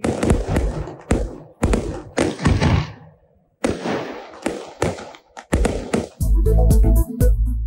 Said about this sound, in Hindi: न्यूजीलैंड के स्काई टावर पर आतिशबाजी।